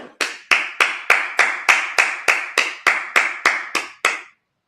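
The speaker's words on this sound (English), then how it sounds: "Just clap it up." Congregation clapping in unison at a Sabbath service: about a dozen sharp, evenly spaced claps in a steady rhythm, close and loud, with no talking, ending abruptly.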